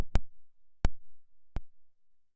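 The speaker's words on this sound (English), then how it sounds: "So when we press a key now, the pitch modulates like this." Three separate synthesizer notes from a Sylenth1 patch, each with a quick pitch-envelope slide, sound as short, punchy thumps that hit at even intervals and decay fast into silence.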